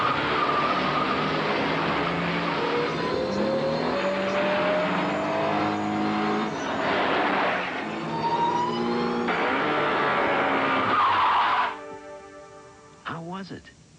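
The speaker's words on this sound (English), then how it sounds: "This is the totally redesigned Colt GT with a new 16-valve fuel-injected turbo power plant." A 1988 Colt GT with a 16-valve fuel-injected turbo engine is driven hard, its engine revving up and down in rising sweeps through repeated accelerations, loud and close, before cutting off abruptly near the end with a few brief sounds after.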